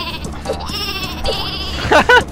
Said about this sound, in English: this sheep is about to do some ungodly damage